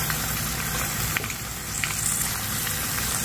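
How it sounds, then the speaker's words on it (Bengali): Mutton pieces fry in hot oil alongside fried onions, giving a steady, dense sizzle that holds at an even level throughout with small pops now and then. "এর মধ্যে এবার মাটনটা দিয়ে আজকে একটু ভেজে করব"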